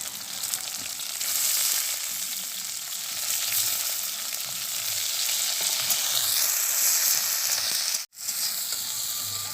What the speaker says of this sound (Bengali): এবার এর মধ্যে দিয়ে দেবো তেলাকুচির ডাঁটাগুলো